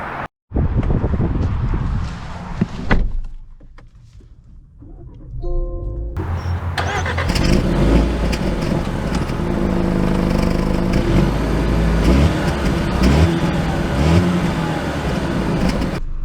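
A new Range Rover Evoque fires up with a brief starter whir after a quiet interior, settles into idle, then pulls away with a steady, building engine drone and road noise heard from inside the cabin.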